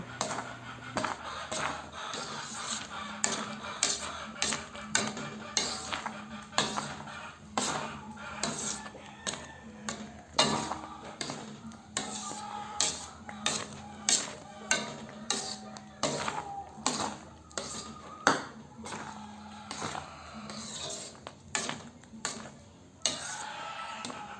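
Arroz caldo is stirred in a pot with a utensil that repeatedly scrapes and clinks against the sides, producing steady irregular taps and knocks throughout with no talking.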